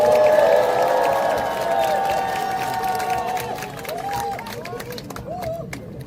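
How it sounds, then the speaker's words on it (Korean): A crowd at an outdoor rally and press conference at Olympic Park in Jamsil, Seoul, claps and cheers. The noise is loud at first and then thins out, with raised voices and shouts mixed in. "우리 판대사님 위해서 박수 한번 쳐주십시오."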